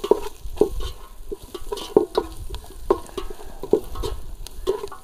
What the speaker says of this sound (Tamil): அந்த பச்சை மிளகாய் இப்படி போட்டுருவோம். போட்டு அதையும் நல்லா வதக்குறோம்